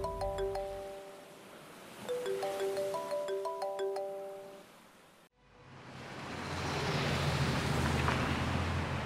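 A mobile phone ringtone plays an incoming-call melody of repeated electronic beeping notes for about five seconds, then cuts off abruptly, giving way to a steady wash of soft background noise.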